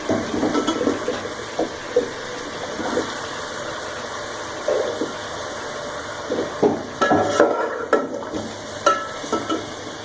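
Tomatoes tip into a pan of sautéing ingredients for chicken rice, followed by spoon stirring with irregular scraping knocks over a steady background hum.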